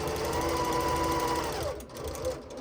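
Sewing machine stitching a quilt heart block, a steady fast whirring run that slows and stops near the end, close and clear with no talk.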